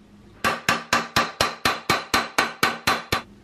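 Eleven sharp, evenly spaced hammer blows flatten TIG welds on a car bodywork panel, each a loud close metallic strike with a short ringing decay, in a steady rhythm and without speech.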